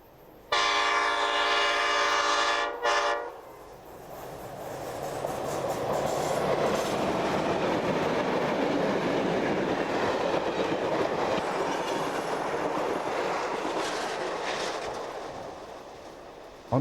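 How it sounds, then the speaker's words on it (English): Three vintage New South Wales Rail Transport Museum diesel locomotives passing through East Maitland: a loud horn blast at the start, then a sustained roaring engine rumble and rolling wheel noise as the train goes by nearby. "On Sunday morning, the three vintage diesels belonging to the New South Wales Rail Transport"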